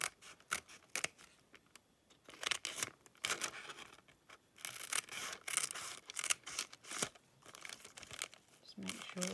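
Scissors snip through paper or fabric for a starter blackbird pattern in repeated irregular cuts with crinkling and rustling between them, close up, and a voice talks over parts of it.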